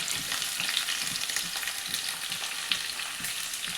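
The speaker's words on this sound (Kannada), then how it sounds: "ಈಗ ಅಮ್ಮ ಆನಿಯನ್ನ ನೀಟಾಗಿ ಫ್ರೈ ಮಾಡ್ಕೋತಾರೆ." Onions frying in a pan for a prawn dish, a steady close hiss of sizzling oil with light intermittent stirring clicks, continuous and even throughout with no voices.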